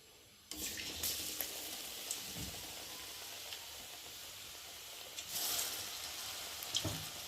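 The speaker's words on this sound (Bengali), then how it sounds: "একে একে একটু ভেজে নেব।" Battered eggplant slices (beguni) sizzle steadily in hot oil, a broad hiss that jumps louder as pieces go in, with small crackles and faint clinks throughout.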